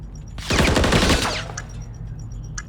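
Gunfire from a Call of Duty competitive match in a New York map, a dense burst of rapid automatic shots lasting under a second, then fading to sparse distant pops and quieter game ambience.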